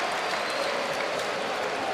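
A crowd applauds Alexander Gustafsson's TKO win at a fight event, with a dense, steady wash of clapping that holds for two seconds at moderate distance.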